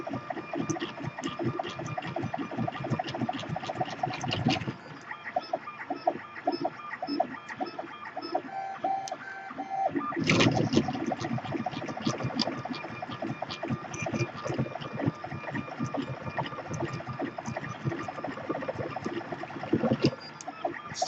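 A 3D printer running a 40mm calibration cube at very high speed, its stepper motors whirring and buzzing continuously with rapid chattering movements and brief pauses, close and steady throughout.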